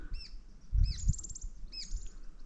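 Small birds chirping in short, bright bursts, a few separate calls and a quick trill, moderately near, with soft outdoor background noise.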